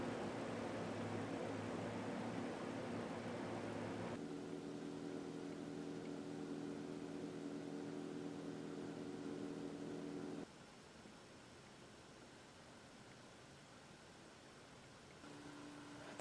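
A heat-powered stove fan spinning over a homemade sand battery heater of sand, candles, copper and a loaf pan, a steady faint whirring drone that shifts pitch and drops quieter partway through.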